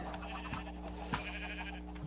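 Sheep bleating in Minecraft, several short game bleats close together over a steady background hum, with no talking.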